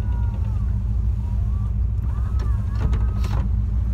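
A 1960 Ford F-100 Custom Cab pickup truck engine idles steadily after starting, with a continuous low rumble close by and faint higher tones drifting over it.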